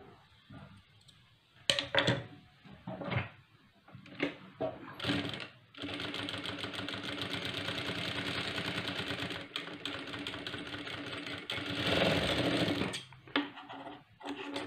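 Domestic sewing machine double-stitching the front of an unlined blouse, running in a steady whirring burst after a few short starts and stops, close and fairly quiet, with no talk.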